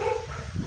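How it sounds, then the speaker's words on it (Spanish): Dogs barking at a distance during an outdoor live stream, a brief muffled bark or two heard faintly beneath steady background noise. "¿Se escuchan los perros, verdad?"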